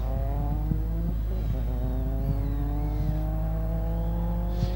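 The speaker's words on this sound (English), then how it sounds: "Chris Kenny now exiting the chicane in the Subaru WRX." A Subaru WRX pulls hard out of a chicane at a hillclimb, its engine note rising steadily through the gears, loud and close, with a continuous rasping drone and harmonics climbing as it accelerates away.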